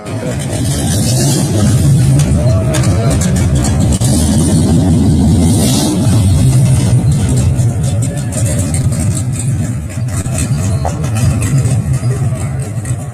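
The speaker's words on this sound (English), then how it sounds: "I'm disappointed because the audio got distorted. That was supposed to be that rumble as he was pulling away." A muscle car's engine rumbles as it pulls away, heavily distorted and loud, a continuous low roar close by and swelling slightly as it moves off.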